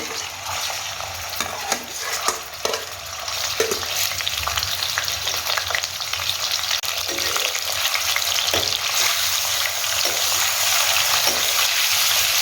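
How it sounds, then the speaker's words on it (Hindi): Prawns frying in oil in a pan for a prawn curry, giving a loud, steady sizzle with repeated stirring and scraping sounds and occasional utensil clicks. "प्रॉन्स को हमने फ्राई करना है।"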